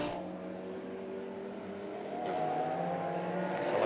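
Endurance touring race cars lap the Hungaroring circuit, overtaking slower back markers, a faint, distant engine drone that swells slightly toward the end.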